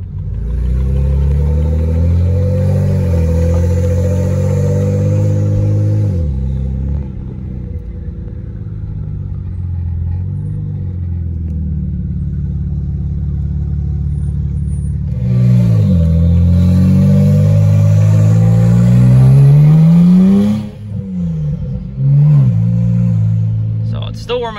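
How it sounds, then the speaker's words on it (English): BMW 335i fitted with upgraded turbos and open downpipes accelerating through the gears, a loud, close engine note rising in pitch with repeated upshifts and a brief lift around the middle, turbo spool over a deep rumble. "Yeah, we can get some the turbo spooling. It's no single turbo, but I think it sounds great."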